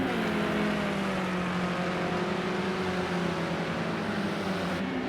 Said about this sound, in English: You can hear the Renault engine bouncing off the rev limiter of Graham's car